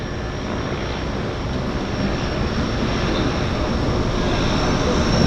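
An airplane rolls out after landing at Vancouver Harbour Airport. Its engine gives a steady broadband roar that swells slightly louder toward the end, heard from a moderate distance with no talking.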